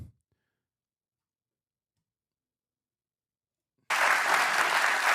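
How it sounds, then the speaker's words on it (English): A studio audience bursts into sustained clapping and applause after a stretch of near silence, loud and dense, filling the last second or so. "Why the fuck are people clapping today?"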